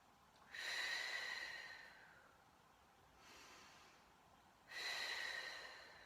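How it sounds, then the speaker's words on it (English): Slow deep breaths during a Pilates class for osteoporosis, each exhale pushed out through pursed lips as a breathy hiss. Two long exhales and a softer one in between, close and clear, with no talking. "So a couple of deep breaths like that"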